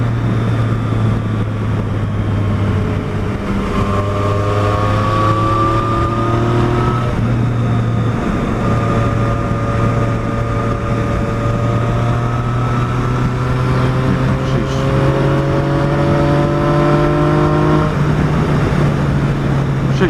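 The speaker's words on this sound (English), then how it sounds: "That's just top gear rolled on." Motor vehicle engine pulling hard in top gear on a ride around an island, a steady loud drone whose pitch climbs slowly and evenly under constant throttle, close and continuous with wind rush and no talk.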